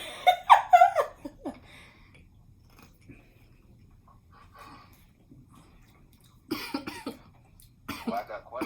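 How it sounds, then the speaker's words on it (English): A person coughs and sputters in a short burst at the start, followed by near silence, then a few more close coughs and breathy noises toward the end. "Cough, cough, cough, cough."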